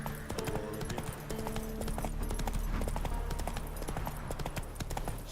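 Cavalry horses in a video game clip-clop in a quick galloping rhythm, with hooves and clattering close and moderately loud over a low rumble.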